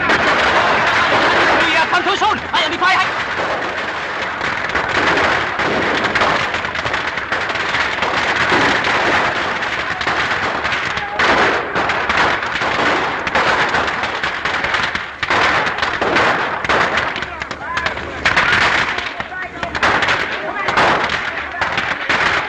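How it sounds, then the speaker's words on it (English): Rapid bursts of gunfire crackle almost without pause through a dense, loud film soundtrack from Charlie Chan at the Race Track, with sharp reports piling over one another and voices mixed in. "In fact, maybe machine gun, huh?"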